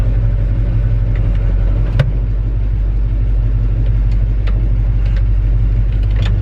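A 1963 Chevy C30 truck engine rumbles low and steady up close as the truck creeps away in first gear, with a few faint clicks and knocks over the drone.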